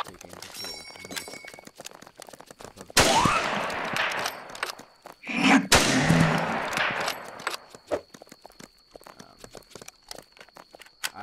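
Rifle shots fired at zombies in a zombie mod game, arriving as loud clustered bursts in the middle with quieter scattered shots and footsteps before and after, and a voice talking over parts of it.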